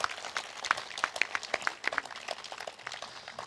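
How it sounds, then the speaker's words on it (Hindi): Clapping from a gathered audience at a foundation-stone ceremony at a spiritual retreat, sharp individual claps standing out within a looser, uneven patter that gradually thins. "अब जोर से ताली बजाओ सोचकर।"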